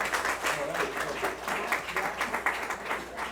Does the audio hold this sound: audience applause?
yes